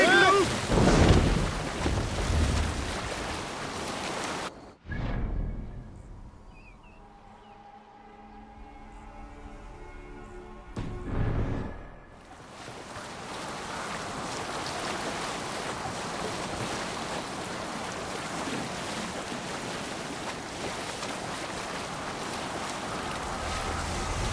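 A boat under sail crosses the open sea in Assassin's Creed Valhalla, heard as steady rushing wind and wave wash, with a loud burst at the start, a brief quieter dip, then continuous broadband surf noise.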